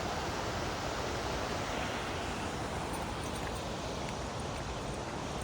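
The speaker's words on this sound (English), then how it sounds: "Just listen to that surf." Ocean surf heard from a trail near a creek in the Trinidad redwoods, a dense, steady wash of broadband noise that rolls on unbroken and fairly loud, with no voices.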